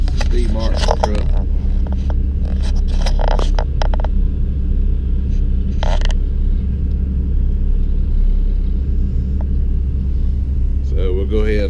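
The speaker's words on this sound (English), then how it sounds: "here comes another truck." A truck arrives to haul topsoil off a work site, a loud, steady low engine rumble throughout with scrapes and clatter near the start and brief voices.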